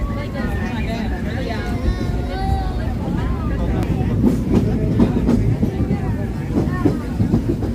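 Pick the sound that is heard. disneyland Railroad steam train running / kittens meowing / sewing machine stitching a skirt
disneyland Railroad steam train running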